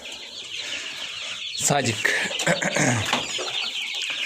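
Newly hatched chicks fresh from an incubator peep and cheep in high, busy chirps, with a few clucking calls mixed in, while a person talks nearby over the steady chatter.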